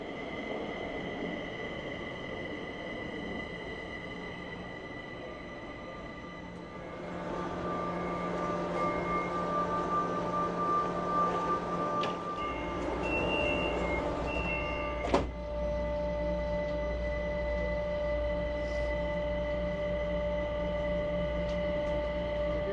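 A metro train rides the rails, a steady rumble and hum at moderate distance with sustained tonal whines, growing louder partway through and with one sharp clank, no talk.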